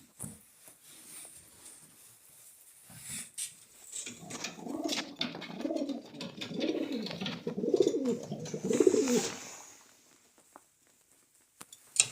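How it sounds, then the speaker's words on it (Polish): Pigeons coo in a Polish breeding loft: soft, rolling, repeated low coos swell up near the middle and fade out, over faint rustling and scattered wing or foot taps. "Jest najlepsze gołębie w Polsce."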